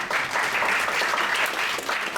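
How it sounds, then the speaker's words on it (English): An audience at a legal panel session of a 2023 sourcing conference applauds a panelist with dense, even, fairly loud clapping that stays steady for about two seconds. "Let's give her a round of applause."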